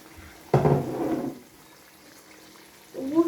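Warm water poured into a pot for cooking quail, a brief splashing burst lasting about a second, fading into quiet before another short pour at the end.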